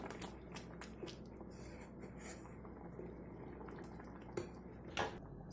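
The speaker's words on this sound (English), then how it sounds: "Mix it up." A spoon stirs thickened mango moong dal with ripe mango and chopped coriander in a pot, giving a steady wet, bubbling churn with scattered scrapes and clinks against the pot, a louder clink near the end.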